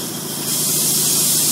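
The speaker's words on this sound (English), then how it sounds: "If we do it too fast, our relief valve will go off." A relief valve on a fire department air bottle filling rig vents air in a loud, continuous close hiss that swells slightly and holds steady.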